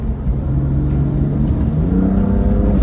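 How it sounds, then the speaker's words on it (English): A modified BMW F80 M3 with a 3-liter twin-turbocharged inline six making 550 horsepower accelerates hard, its loud, rising engine note climbing steadily through the pull, close and alone. "This car has a 3-liter twin turbocharged inline 6 engine that is making 550 horsepower to the rear wheels."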